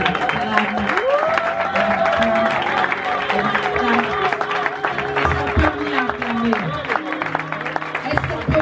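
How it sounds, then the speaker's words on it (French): An audience at a church celebration welcoming an evangelist claps and cheers steadily, the applause spread under sustained music and a voice talking throughout. "Et pendant qu'il s'approche, on acclame."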